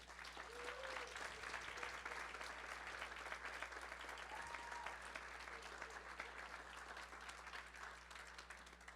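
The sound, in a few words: audience applause for the kids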